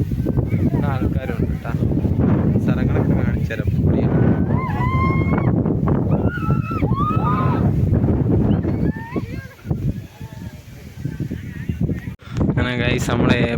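Strong wind buffets the microphone at the Ponmudi hilltop, a constant roaring rumble, while a person talks over it and it briefly eases before gusting back.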